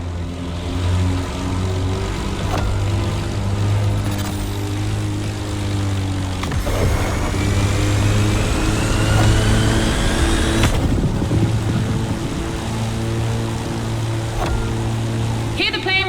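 In The Crew Motorfest, a propeller plane and an AGP race car share a speed-clash track, with a steady droning engine hum, rising whines from the car, and sharp shifts and swooshes as they pass close by.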